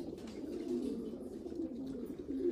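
Steady low cooing from a racing pigeon, close and continuous for a couple of seconds with no other sounds.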